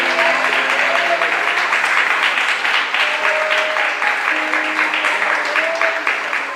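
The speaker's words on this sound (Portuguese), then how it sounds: "Você pode aplaudir o Senhor" Church congregation applauding during a worship service, a steady dense clapping that fills the whole stretch, loud and close, with sung or sustained voices and organ-like tones running beneath.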